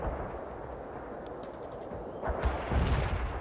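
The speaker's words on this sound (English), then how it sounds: "Strike vision received. Cluster bombs are out." Cluster bomb strike in World in Conflict: a steady low rumble of distant blasts and gunfire, swelling into a louder burst of impacts near the end.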